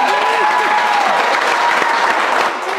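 Sustained audience applause on a Ghanaian talk show with twins as guests, a steady wash of many clapping hands, loud and even, with voices and a few cheers mixed in before it eases slightly at the end.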